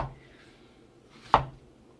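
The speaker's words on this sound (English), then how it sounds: "chop into semi-thin slices" A single crisp knife chop through chayote on a cutting board, sharp and close, with faint room noise around it.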